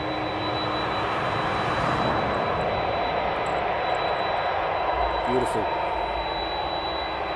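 CargoLogic cargo jet taxiing at East Midlands Airport at night, a loud steady jet engine roar filling the whole stretch, with a brief spoken remark over it.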